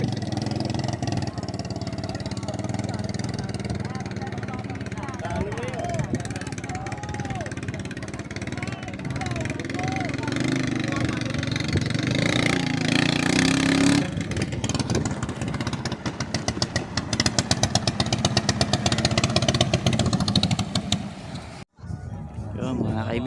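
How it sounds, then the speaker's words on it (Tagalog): A motorcycle engine runs roughly with a metallic clatter, revving and knocking throughout, while voices talk over it at close range. "Parang lagapak ang makina niya."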